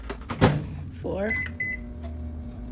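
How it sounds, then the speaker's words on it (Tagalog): Microwave oven heating a cup of powdered milk mixed with water: a thump of the door, a rising series of button beeps, then a steady electric hum, with a person talking over it. "Lagyan natin sa microwave."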